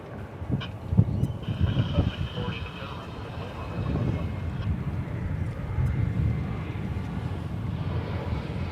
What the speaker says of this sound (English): There you see American Flight 2769. This one's going to Seattle. It's an Airbus A321.